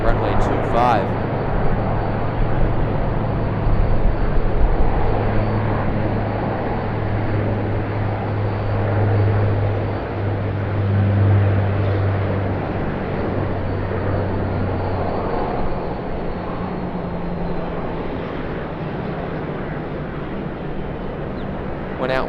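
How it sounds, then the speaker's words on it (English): A Qantas Q400 turboprop airliner taking off from runway 25 at Sydney Airport gives a steady, continuous propeller drone with a low hum, heard from a distance for over twenty seconds with voices over it. "Alright, Qantas Q400. Looking forward to rocketing takeoff out of runway 25."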